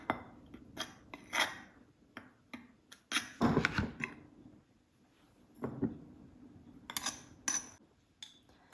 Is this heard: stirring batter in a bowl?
yes